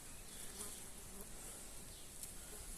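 Flies drone steadily around fresh meat while livestock is butchered. The buzzing is faint and continuous against a quiet background, with no talking.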